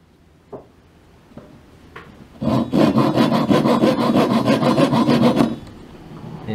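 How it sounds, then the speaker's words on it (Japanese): A hand saw cuts wood during the hammer overhaul of a Yamaha G2E grand piano. A few light taps come first, then about three seconds of quick, even, close strokes rasp back and forth before stopping. "カットしているところです。"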